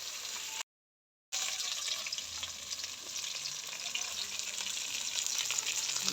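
Katla fish frying in hot oil gives a steady, close sizzle and crackle that briefly cuts to silence before resuming just as loud.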